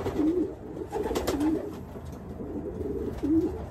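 A racing pigeon coos close by, three or four soft throaty rolling calls spaced across a few seconds, over a low steady background rumble.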